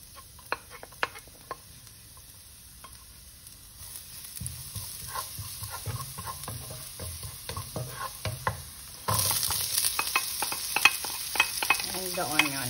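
Garlic sizzles in hot olive oil in a pan, with a soft crackling fry and scattered stirring taps that grow louder and denser partway through.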